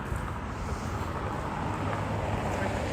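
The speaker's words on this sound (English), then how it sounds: "the wind cut down a little bit" Cold winter wind on an outdoor January walk, a steady broadband rush buffeting the microphone for the whole stretch, loud and continuous with low rumbling gusts and no voices.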